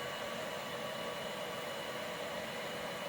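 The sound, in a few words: heat gun blowing hot air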